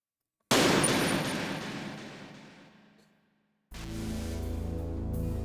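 Gunfire in a video game: a loud, dense burst of rapid shots that fades over about three seconds, then after a brief silence a second sustained stretch of firing or rumbling, with no talk.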